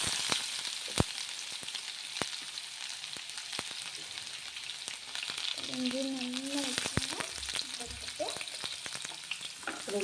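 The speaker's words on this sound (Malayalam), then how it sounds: "ആ സെയിം എണ്ണയിലോട്ട് നമ്മൾ ആദ്യമായിട്ട് ഫസ്റ്റ് ഇടുന്നത് വെളുത്തുള്ളിയും ഇഞ്ചിയും" Garlic and ginger fry in reused oil for chilli chicken, a soft continuous sizzle with occasional sharp clicks and a brief faint tonal squeak partway through.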